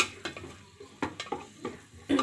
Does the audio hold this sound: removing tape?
no